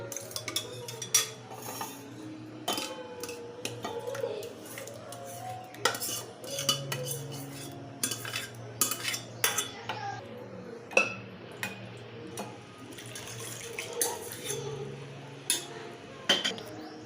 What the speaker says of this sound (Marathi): आता हे एका पातेल्यात काढून घेते मी